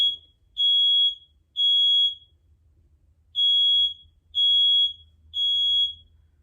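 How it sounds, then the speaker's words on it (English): A fire alarm sounds in sharp, piercing beeps, two, a pause, then three more, loud and evenly spaced over a faint low hum. "it's a fire alarm. Why is it going off?"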